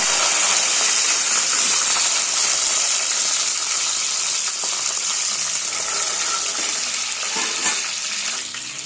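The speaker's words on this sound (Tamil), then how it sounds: "எண்ணெய் சூடானோ தாளிக்கிறதுக்கு வெந்தயம் கொஞ்சமாக, கருவேப்பிலை" Loud, continuous sizzling and crackling of fenugreek seeds and curry leaves frying in hot oil in a clay pot, close up and steady throughout.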